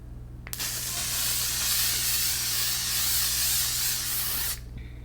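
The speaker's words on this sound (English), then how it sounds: "Setting spray, and then I think I'm gonna put blush on again." A long, steady hiss of L'Oreal Infallible setting spray misted onto a made-up face, loud and close, running about four seconds before cutting off sharply.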